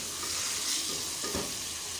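Chicken and onions fry in a pan with a soft, steady sizzle and a brief stirring scrape, faint and without talk.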